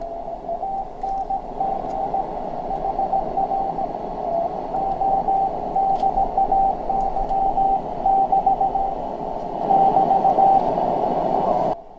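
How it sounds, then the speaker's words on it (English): A weak Morse code (CW) radio signal on a receiver, faint intermittent tones of dits and dahs buried in a constant hiss of static, with no voices. "That's a pretty weak signal."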